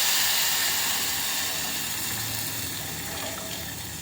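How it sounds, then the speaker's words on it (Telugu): Water pours steadily onto tamarind that was soaked ahead of time for cooking, giving a continuous close splashing and gushing that slowly eases over a few seconds, with no voices. "ఈ నీళ్ళు పోసేసుకుంటున్నాను."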